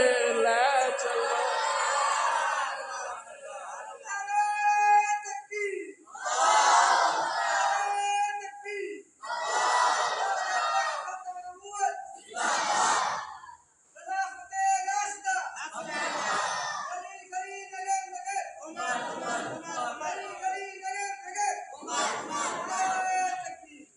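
A crowd at a Muharram majlis in a mosque chants religious slogans in loud call-and-response bursts, a leader's voice alternating with the massed shout over repeated rounds.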